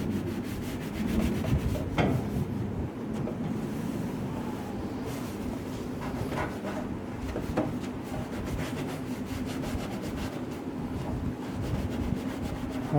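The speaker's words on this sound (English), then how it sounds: "And then scrub it and see what happens." Steady abrasive rubbing as the greasy outside of a Weber grill is scrubbed with a slightly abrasive cleaner, a continuous close scouring texture with a few sharper strokes and no talking.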